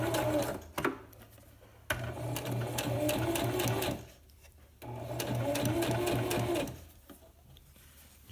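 A sewing machine back-stitches the hem of a down quilt for an insulated winter hammock, running in steady close bursts with short pauses between passes.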